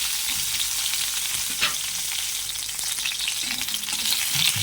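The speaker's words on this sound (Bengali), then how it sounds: "আমি ওই জন্য হালকা করে একটু ভেজে নেব" Soft fish lightly frying in a pan gives a steady close sizzle and crackle throughout, with occasional scrapes and stirring, and no voices.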